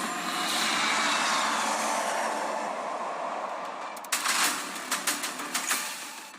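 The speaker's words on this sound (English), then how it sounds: "इसके बाद 4 राफेल लड़ाकू विमान और एक Boeing E-7 airborne early warning and control system करतब दिखाने के साथ ही अपनी ताकत का प्रदर्शन करेंगे" Military aircraft, including Rafale fighter jets and a Boeing E-7 airborne early warning plane, fly over an NDA passing out parade. A loud, steady roar gradually eases, then a run of sharp clicks sounds over the fading drone.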